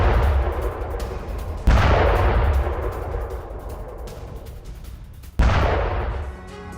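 Howitzer artillery fire in the Russia–Ukraine war around Kupiansk: two heavy booming shots a few seconds apart, each a sudden loud blast that rolls and decays slowly, with no voices.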